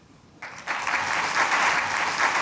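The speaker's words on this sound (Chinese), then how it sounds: "我们热烈的掌声" An audience at a national prayer breakfast in Taiwan breaks into applause that swells quickly from quiet into loud, sustained clapping filling the hall.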